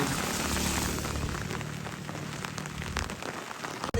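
Heavy rain with wind in Karainagar during severe flooding, a dense, constant hiss of downpour on surfaces, loud and close from start to finish.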